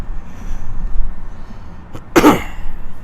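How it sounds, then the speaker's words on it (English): A single short cough, close and sharp, after a quiet stretch of low room noise. "Definitely the reason for my coughs is air pollution"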